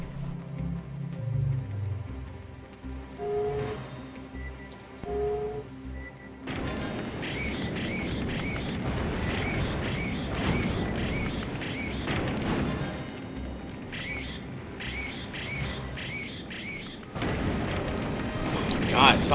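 Heavy booms and crashing blasts from explosive charges detonating in the Alien Trilogy video game, starting with a few dull thumps, then a long dense stretch of repeated roaring detonations mixed with game noise.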